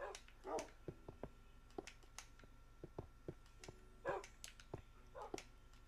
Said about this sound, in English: You guys barking at each other